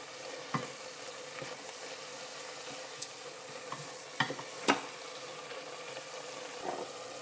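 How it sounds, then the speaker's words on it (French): Chicken and small vegetables being stirred with spices in a pot for chorba: a soft, steady sizzle runs throughout, broken by occasional scrapes and light knocks of the spoon, close but quiet, with no voices. "Je mélange. Et je vais laisser la viande et les petits légumes s'imprégner de toutes ces épices."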